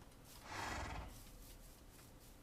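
Horse whinny in a video game, a single faint, breathy neigh lasting about half a second, with soft ambient noise before and after and no talking.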